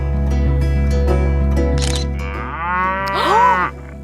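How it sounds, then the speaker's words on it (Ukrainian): A cow lets out a loud, drawn-out moo close by in open countryside, one long call rising and bending in pitch near the end, over a low steady hum. "Та це ж корова."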